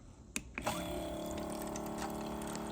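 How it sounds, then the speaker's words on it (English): A press-button pump on a 5-gallon water bottle draws water up through a tube and dispenses it in a steady close stream, after a couple of sharp clicks of the button at the start. "And then you press this button and the water comes out"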